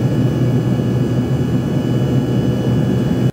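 A passenger airplane roars down the runway on takeoff for a short Philadelphia to Harrisburg flight, a loud, steady, unbroken engine rumble heard from inside the cabin throughout.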